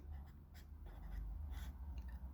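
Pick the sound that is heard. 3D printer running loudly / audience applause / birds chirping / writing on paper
writing on paper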